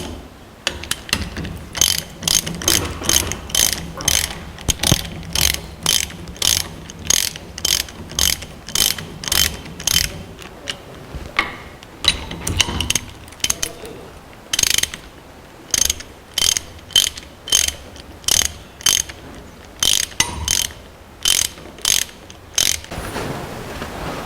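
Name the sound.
tightening final drive bolts, part held in bench vise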